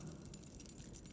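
A bunch of metal keys on a loose chain jangles steadily and close up, a short continuous clinking rattle with no voices.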